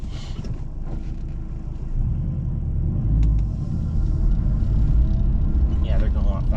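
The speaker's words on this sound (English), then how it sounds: "I'm gonna let this car go by because I'm probably holding them up." A car driving past on a road near Dead Indian Highway, a low rumble building and swelling as it comes close, with people talking over it.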